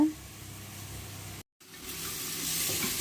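Onions frying in oil in a pan for Ambur-style mutton biryani, a steady soft sizzle with occasional stirring scrapes, a brief gap, then the crackle grows brighter and louder.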